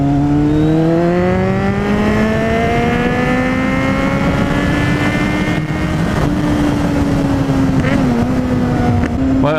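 Kawasaki Z800e motorcycle engine under way while riding, a loud steady drone whose pitch climbs gradually with the revs, then dips and wavers near the end, continuous with wind noise.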